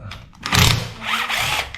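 An EconoG Smart X-series electric drill runs in hammer mode, its loud, steady grinding whir swelling twice over a short burst, close by with no voice.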